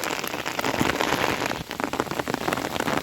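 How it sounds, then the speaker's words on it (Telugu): Steady rain pattering on a surface, dense and continuous with scattered louder drops, fairly close and with no voices. "వర్షం అనేది మళ్ళీ స్టార్ట్ అయిపోయింది"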